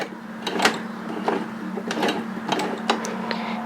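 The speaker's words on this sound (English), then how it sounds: "we want to hand crank towards you a couple of stitches just to make sure nothing is knotted up" Hand-cranking a Brother 1034D four-thread serger overlocker through a few stitches: a soft series of close mechanical clicks and ticks with a faint steady hum underneath.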